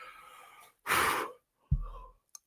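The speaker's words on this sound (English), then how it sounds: "I'm yawning" A person yawns once, a long breathy exhale followed by a short low vocal groan trailing off, close and alone with no talk around it.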